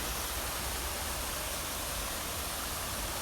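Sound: stream of flowing water beside an orchard

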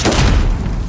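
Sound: claymore explosion in Call of Duty Modern Warfare video game

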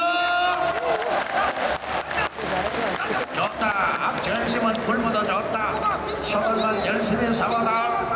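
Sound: crowd applause at a bullfight

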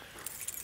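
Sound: bunch of keys jangling, including a car key

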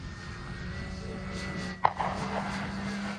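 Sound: Flex Innovations RV8 60e electric RC model airplane flying

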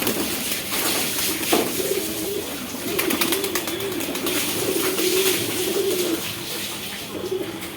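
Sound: pigeons cooing

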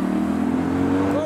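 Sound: Litchfield-tuned Nissan GTR accelerating out of roundabout

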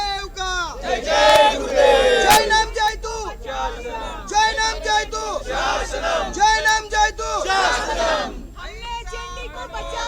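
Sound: Jain community crowd cheering in celebration

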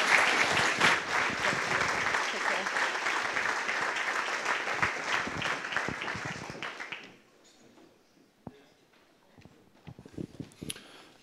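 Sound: audience applause at a gala

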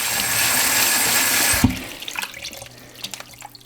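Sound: washing mushrooms under running tap water

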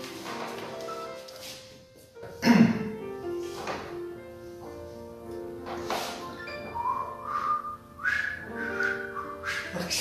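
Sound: human whistling

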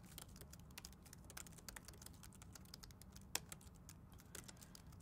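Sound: typing code on a computer keyboard

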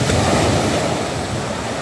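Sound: sea waves breaking on the Black Sea shore

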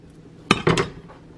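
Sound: cutting an avocado with a knife

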